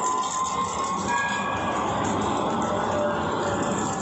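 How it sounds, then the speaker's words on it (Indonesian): An electric train passes close by in Istanbul, giving a continuous loud rushing rumble with rail noise that stays steady throughout, and no voices. "Kereta listrik ya."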